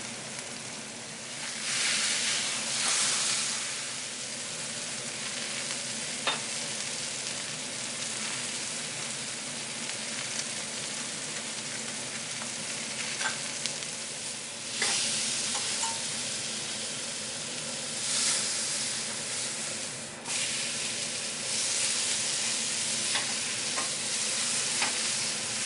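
A beef pot roast sears in a hot pan, a continuous loud sizzle and spatter with occasional brighter crackling surges and faint clinks, no voices.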